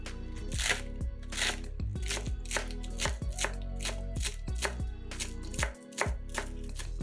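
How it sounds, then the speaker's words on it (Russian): A knife slices through a large bunch of green onions on a cutting board, a brisk, regular series of crisp chops continuing for several seconds with soft music underneath. "Берем большой пучок зеленого лука и нарезаем его ножом"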